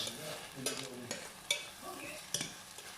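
Onions fry in olive oil in a pan while being stirred, a soft sizzle broken by several sharp scraping clicks of a spoon against the pan at irregular intervals.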